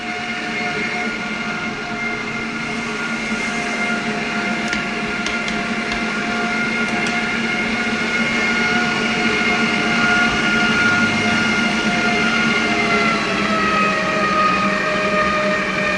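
Stand mixer kneading brioche dough, a loud continuous motor drone with steady tonal hum and faint rhythmic churning, running alone throughout without speech.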